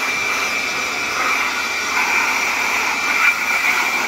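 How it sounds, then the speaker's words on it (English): A blower roars steadily as it blasts debris out of the condenser of a Coleman Mach RV rooftop air conditioner, a loud, close, continuous whoosh with slight surges in strength. "So what I do is take a blower, and I kind of brush this area of the condenser out here and just blast it real good."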